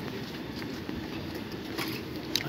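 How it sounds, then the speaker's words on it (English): A train standing at a railway station in Stockholm at the last stop of its line, giving steady low rumbling with faint clatter and hiss, a continuous backdrop with no speech. "So this is the last stop of this train."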